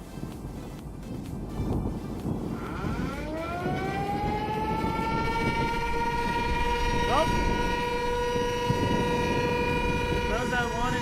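An outdoor tornado warning siren rises in pitch and then holds a steady, loud wail for several seconds, partly under rumbling background noise and a brief spoken word at the start.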